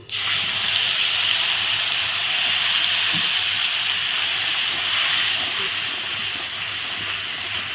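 Loud, steady sizzling hiss of tomato paste frying in hot oil, continuous throughout with no voices.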